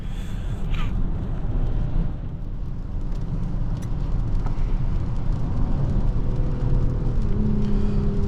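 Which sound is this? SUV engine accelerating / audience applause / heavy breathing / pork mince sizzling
SUV engine accelerating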